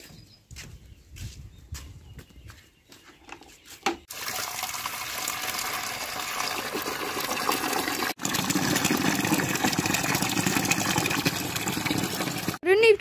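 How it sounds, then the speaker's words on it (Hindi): Water being filled for goats: a steady rushing pour from a tap or pump that grows louder and continues for several seconds, with people talking nearby at the start. "बिलावल बकरियों के आगे पानी भी रख दो ना।"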